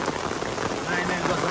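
Heavy rain falls steadily with a dense, continuous hiss of drops hitting surfaces, loud and close throughout.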